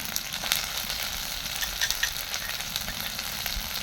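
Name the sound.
onions frying in a pan with spice pastes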